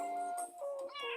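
Two or three quick, clear meows from a nearby cat, soft and high-pitched, with no other sound around them.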